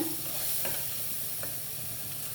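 Chicken biryani masala sizzling on a medium flame while being stirred, with a soft steady fry and a few scraping spoon strokes, close but fairly quiet, with no speech.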